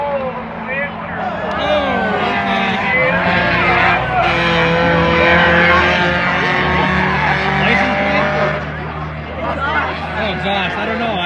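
A race car at Monadnock Speedway during a spectator race runs rough, its engine droning and wavering loudly as it passes, while a commentator talks continuously over it.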